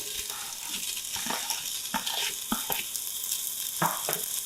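Diced Spam sizzling in melted bacon fat, a steady frying hiss broken by occasional pops, crackles and stirring knocks, close and moderately loud.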